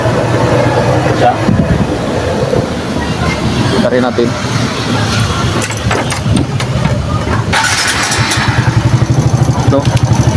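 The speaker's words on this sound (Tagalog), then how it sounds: "Problema ng motor ito, masyado palagitik yung kanyang andar." A Suzuki Smash 110 motorcycle idles up close with a loud, rapid ticking from a cylinder head fault, while someone talks over the running engine.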